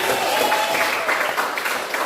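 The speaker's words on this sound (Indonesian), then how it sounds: "Oke, tepuk tangan." A classroom of students applauds steadily, a dense continuous patter of hand claps filling the whole stretch at moderate level, with a faint voice beneath.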